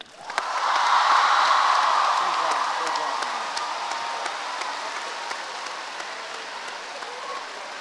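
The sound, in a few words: audience applause for debate speakers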